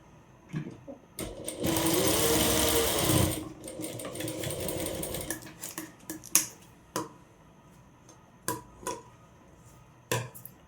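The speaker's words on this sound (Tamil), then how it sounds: "இப்போ இதை ஸ்டிச் பண்ண வேண்டியதுதான்" A sewing machine stitches fabric for a one-piece umbrella frock, a sustained loud whirring run of about two seconds, then a series of sharp clicks and short mechanical taps as the work is adjusted, with no talking.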